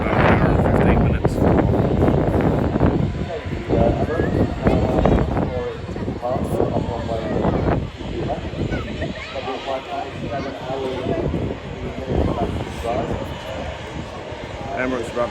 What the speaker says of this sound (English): Emirates about to take off, runway 23 left.